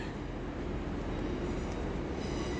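A train rumbles into a platform at Leeds station, a loud steady broadband roar of wheels and engine running continuously through the clip with no voices.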